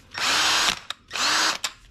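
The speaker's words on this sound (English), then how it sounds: "all you do is put this on a drill" A power drill spins a blade-sharpening wheel for a Craftsman M110 mower's blade, revving up in two loud, steady bursts of whirring grind, each followed by a short click as it stops.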